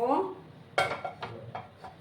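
A metal frying pan is set down on a gas stove, with a sharp clank followed by a few lighter scraping knocks of metal on the burner grate, close and brief, after a short stretch of talking.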